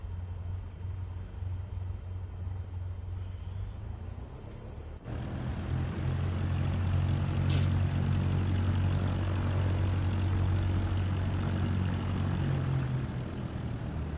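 Propeller airplane taxiing in Microsoft Flight Simulator 2024 on PS5, with a steady low engine drone that grows louder partway through and then holds level and continuous, and no voices.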